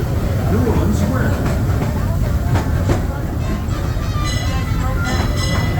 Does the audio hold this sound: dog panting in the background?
no